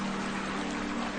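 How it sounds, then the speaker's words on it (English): A waterfall in a woodland clearing gives a steady, even rush of falling water that holds unchanged from start to finish. "that sounds like the waterfall"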